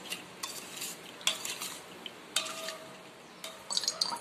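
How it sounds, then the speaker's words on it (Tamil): A spoon stirs sugar into milk for Chettinad paal paniyaram, with light clinks against the vessel in scattered taps and a soft swirl between them, close and fairly faint, with no talking. "இப்போ இத நல்லா கலந்து இத தனியா வச்சிரலாம்"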